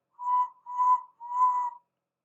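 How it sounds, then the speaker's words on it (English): Three short, clear whistle blasts from a steam engine sound in a row, evenly spaced and alone against silence. "Whistle when you're ready."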